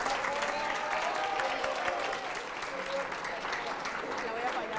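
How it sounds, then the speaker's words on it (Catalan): An audience applauds at a Catalan television word-game show, steady dense clapping at moderate distance that holds evenly throughout, with voices talking faintly underneath. "Aplaudiment, aplaudiment, aplaudiment, aplaudiment"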